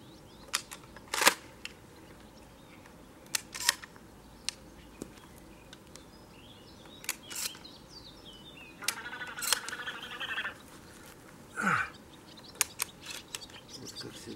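Sharp metallic clicks and snaps of a Stoeger P350 air pistol being handled and loaded with a round ball pellet, scattered irregularly against a quiet outdoor background.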